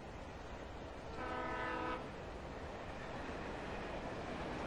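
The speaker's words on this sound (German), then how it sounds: "Ein Zug." A train rolls by in the horror game Alan Wake, its horn blaring briefly for under a second over a steady, fairly loud rumble of wheels and cars, with no one speaking.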